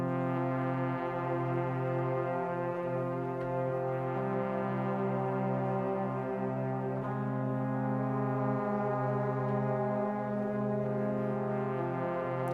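A brass-like Valves patch from the Native Instruments Duets synth holds sustained chords with steady harmonic tones, shifting slowly between notes without any talk.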